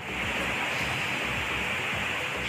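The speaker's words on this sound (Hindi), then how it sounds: "देखिए कैसे सीढ़ियों से यहाँ पानी अस्पताल परिसर में घुस रहा है।" Floodwater rushes down stairs into hospital grounds in Ratlam during heavy rain, a continuous loud, broadband wash of flowing water with no pauses.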